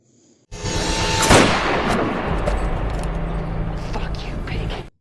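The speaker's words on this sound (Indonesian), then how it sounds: "seorang polisi yang sedang jalan patroli yang langsung ditembak dari jarak dekat oleh seseorang yang tidak terlihat wajahnya" A close-range gunshot in the crime thriller film Blitz: one sharp loud crack rings over a dense, loud film soundtrack with low rumbling music and background effects that carry on steadily for several seconds.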